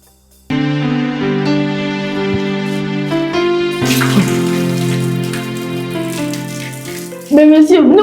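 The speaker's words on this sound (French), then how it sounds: "vous ne voyez pas que je suis dans la douche?" A shower runs with a steady, loud hiss of falling water throughout, under a strong sustained tonal hum, with a brief voice near the end.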